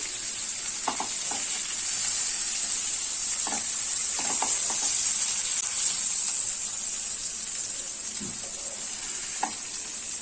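Chicken pieces for a homemade restaurant-style pizza deep-frying in hot oil, a steady close sizzle with occasional stirring clinks and scrapes, no voices.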